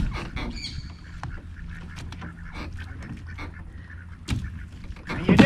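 Ducks quack and honk around a back deck in a loose, irregular chorus of nearby calls. Bursts of calls grow louder toward the end, and no voices are heard.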